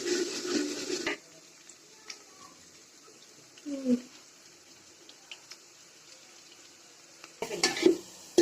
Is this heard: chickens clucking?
no